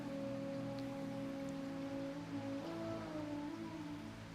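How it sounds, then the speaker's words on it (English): Steady rain and gentle water sounds suggesting a pond and ocean, a continuous soft wash with low tonal hums underneath, even and calm throughout. "We've got sounds of all the different kinds of water right now. We have the beautiful pond, you've got the rain, you've got the ocean"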